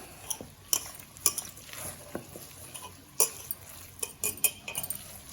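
Puffed rice batter being mixed with water and soda powder by hand, giving soft wet squelches and stirring with scattered sharp clinks of a utensil against a bowl, close and fairly quiet, with no talking.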